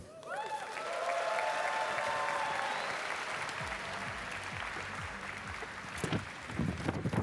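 An audience at a robotics competition breaks into sustained applause with some cheering, a dense clapping roar that swells and holds throughout, with a few brief voices near the end.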